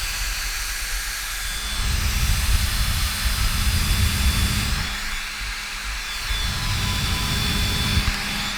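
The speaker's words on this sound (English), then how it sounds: "if you were using the fan at max speed on a train or anywhere in public, you probably will get dodgy looks because it does sound like a small drone" Cooling fan of an AYANEO Pocket Micro handheld running at max speed, a close, steady whirring hiss with a faint high whine that swells and eases slightly, drone-like, with no talking.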